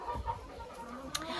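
Hens clucking inside a chicken coop with hay-lined nesting boxes: soft, irregular clucks close by, one sharper squawk near the end, with no talk.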